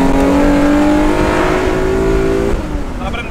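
A Mitsubishi Lancer/Mirage with a 6G75 V6 turbo engine revs loudly up close, its pitch climbing steadily before it eases off near the end.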